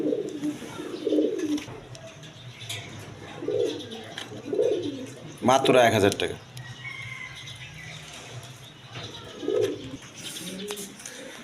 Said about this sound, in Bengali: নর কবুতর দেখেন, একদম ছটপটা কবুতর দেখেন।